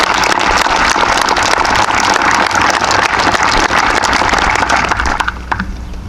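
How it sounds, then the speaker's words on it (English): A graduation crowd gives loud, dense applause for graduates enlisting in the military, a continuous roar of many hands that holds for about five seconds and then fades. "Let's give them a round of applause for their service."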